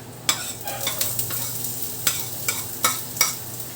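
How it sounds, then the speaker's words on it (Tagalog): Ginger, onion and garlic sizzle in a pan, a close, steady crackle broken by several sharp scraping strokes of a spatula stirring. "Ayan, lagay na natin yung sibuyas at bawang."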